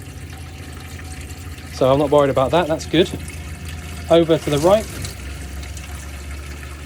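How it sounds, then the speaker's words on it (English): Water runs steadily from the tap of a Firebrand 590 caravan as its pump kicks in, a constant rushing background under a person talking. "So you can hear straight away the pump kicks in."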